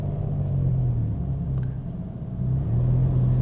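A 2017 Mitsubishi Space Star facelift engine pulls at low revs, a steady low droning hum from inside the cabin with slight pitch shifts as the car accelerates onto a motorway, no talking.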